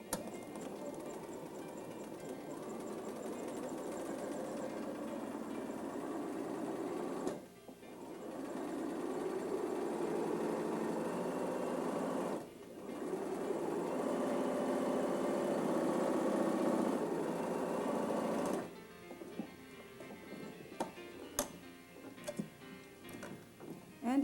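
A sewing machine stitches rows of shark's teeth into starched heirloom fabric, a steady moderate hum running in long stretches with short pauses between them, then a quieter patch of scattered clicks and handling.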